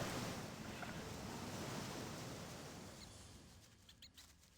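Waterfall in the game Gothic 2, a broad, steady rushing roar of falling water heard up close, slowly fading a little toward the end, with faint high clicks near the close and no talking.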